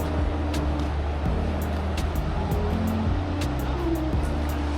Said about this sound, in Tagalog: Maganda yung alon niya para sa surfing.